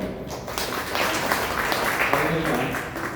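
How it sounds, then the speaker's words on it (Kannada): An audience at a Kannada literary gathering breaks into a burst of clapping that swells and holds for a few seconds, mixed with voices. "ಚಪ್ಪಾಳೆ."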